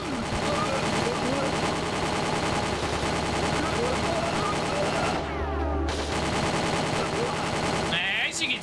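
Rapid turret gunfire in the PS3 shooter Winback, a loud continuous automatic stream of shots that breaks off briefly near the end.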